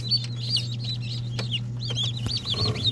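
Several chickens cluck and chatter in quick, overlapping bursts over a steady low hum, fairly close by.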